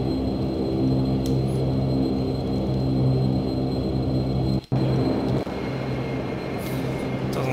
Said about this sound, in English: Let's bring these engines back to start feather.